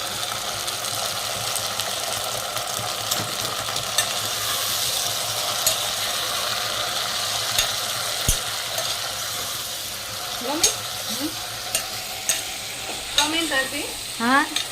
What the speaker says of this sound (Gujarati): ગુવાર, બટેકા, ટમેટાનો વઘાર થઈ રહ્યો છે ભાઈ